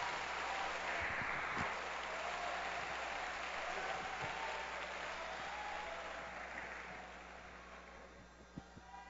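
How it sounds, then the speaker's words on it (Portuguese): A church congregation breaks into sustained applause during a worship service, a dense wash of many hands clapping at steady loudness that thins and fades toward the end, with a low constant hum underneath. "uma salva de palmas para Jesus"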